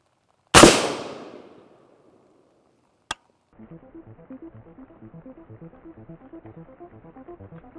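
A rifle firing 196-grain Swiss AP rounds with a tungsten penetrator at an M2 Bradley side skirt, one loud sharp shot with a decaying tail, a brief crack later, then a fast rhythmic rattle of repeated pulses.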